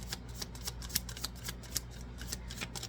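Oracle cards being shuffled by hand, a quick series of crisp riffling flicks and slaps in an uneven rhythm, close and alone without talk.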